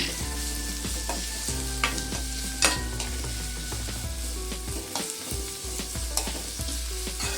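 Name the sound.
onion and capsicum frying and being stirred in a pan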